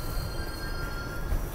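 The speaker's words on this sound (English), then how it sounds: "This is the Manhattan bound end train" A Manhattan-bound subway train rumbles into a Brooklyn station, wheels squealing steadily on the rails with a constant loud low roar and thin high-pitched screech for the whole stretch.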